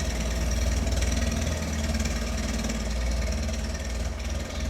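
A cold tractor engine idles in Farming Simulator 25 with a close, steady, low rumbling chug and faint knocking, heard alone.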